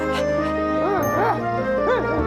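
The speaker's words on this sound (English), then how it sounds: "That's a good dog." An animated cartoon dog gives a few rising-and-falling whimpers and short yips over a soft musical background, fairly close and clear.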